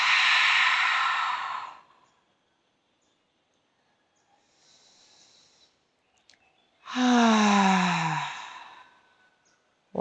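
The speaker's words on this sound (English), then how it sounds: "Audible exhale." A slow, breathy exhale during yoga breathwork, loud and close, followed by a quiet pause and then a second long, voiced sigh-like exhale.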